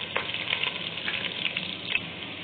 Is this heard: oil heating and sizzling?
yes